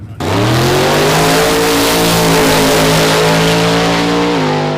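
Chevrolet Camaro making a drag racing pass at Hot Rod Drag Week, a loud, close engine screaming hard at full throttle with rising harmonic pitch through the gears, sustained and alone.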